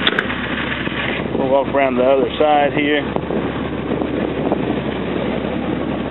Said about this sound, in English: Engine sounds good in this truck, other than those straight pipes are kind of loud